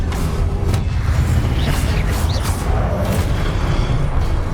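Fiery Confringo spell blasts in the Hogwarts Legacy video game, loud booming bursts over a dense, continuous rumble of combat noise, with no speech.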